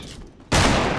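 Sudden loud burst of gunfire in the Fortnite video game, a dense fusillade erupting after half a second of quieter ambience and sustaining to the end.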